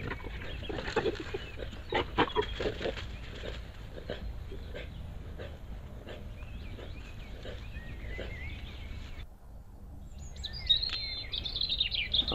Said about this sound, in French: on entend beaucoup d'oiseaux, c'est plutôt agréable.